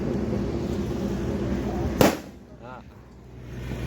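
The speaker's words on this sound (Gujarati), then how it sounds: "ફટાકડા પડો ફટાકડા" A single firecracker bursts sharply and close along a roadside during Diwali season, a loud crack with a brief tail, set against steady traffic and bike noise.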